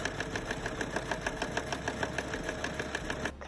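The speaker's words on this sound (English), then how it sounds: "And then now we just sew right here." Rapid, even mechanical chatter of a sewing machine stitching a ruched top's lining, a steady run of fast repeating ticks at close range that stops abruptly near the end, with no talk.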